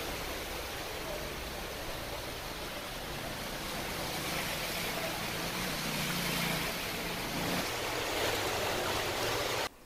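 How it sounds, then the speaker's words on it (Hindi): Rainwater overflowing from jammed drains and sewers rushes through flooded colony streets in Haryana, a steady broadband wash of flowing water, fairly faint and unbroken, ending abruptly. "नालियों से ओवरफ्लो होकर बारिश का पानी बह रहा है"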